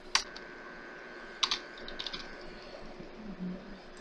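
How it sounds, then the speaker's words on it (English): Keys on a computer keyboard tapped in short bursts, a quick cluster of clicks near the start, another at about a second and a half, then a few lighter taps, close up in a quiet room. "we're going to type in Windows 98"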